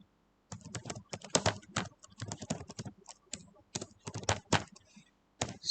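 Bursts of quick, close clicking on a computer keyboard, several runs of keystrokes separated by short pauses, with no talking.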